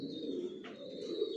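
Pigeons of the Johnson line in a loft coo with a continuous low burbling murmur, quiet and close, while a faint steady high whine runs underneath.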